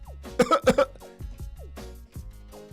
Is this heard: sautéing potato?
no